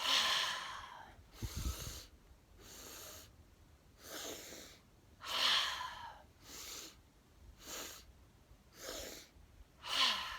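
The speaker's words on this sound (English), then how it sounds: "exhale, let it all out" Deep, forceful breaths from a yoga breathing exercise, close and clear: about eight rhythmic bursts of breath separated by short quiet pauses.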